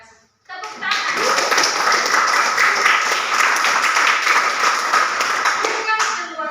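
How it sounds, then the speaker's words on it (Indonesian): Steady applause from a crowd, sustained clapping at a fairly loud level for several seconds before fading at the end. "Terima kasih. Tepuk tangan."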